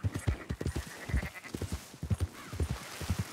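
Sheep bleat repeatedly in Red Dead Redemption 2, a busy overlapping flock of short wavering calls close by, with faint hoof clatter and no talk over them.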